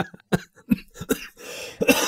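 Several sharp, close coughs in quick bursts, with throat clearing between them and a rougher cough at the end.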